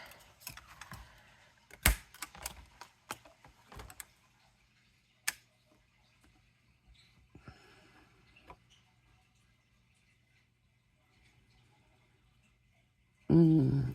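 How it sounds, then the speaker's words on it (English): Scissors snip through a piece of crafting acetate in a series of sharp, close clicks and cuts, clustered early and then thinning out, with quiet gaps between and a louder burst of handling noise at the end. "So I'm going to cut this out."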